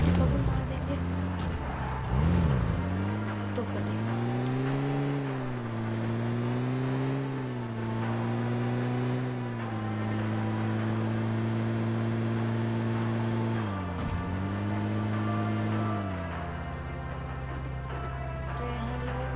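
A vehicle engine drives steadily in PUBG Mobile, a droning tone that rises and dips as it speeds up and slows down, loud and close throughout, with someone talking over it.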